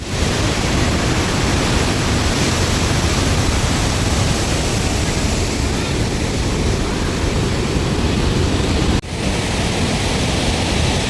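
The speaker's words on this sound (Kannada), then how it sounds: "ಇನ್ನೊಂದು ಸೈಡೆಲ್ಲ ನೀರು ಸೌಂಡ್ ಹೇಗಿದೆ ಅಂತ ನೀವೇ ಕೇಳ್ಬೋದು ನೋಡಿ" Powerful rushing water roars continuously at Iggaluru Dam, loud and broadband like a torrent pouring through a spillway, with no voices over it.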